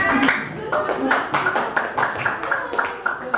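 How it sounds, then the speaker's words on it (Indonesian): Classroom applause for a student group, loud irregular hand claps from several people close by, with chatter mixed in. "Ya, kita beri aplaus untuk kelompok 6."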